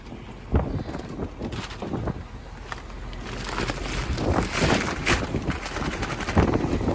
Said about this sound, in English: it's super windy again today.